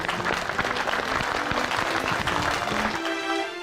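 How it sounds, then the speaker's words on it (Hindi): An audience bursts into sustained, dense clapping in a courtly comedy scene, a steady wash of hands that thins out at the very end, with a faint low tone running underneath. "तालियां बजाइए"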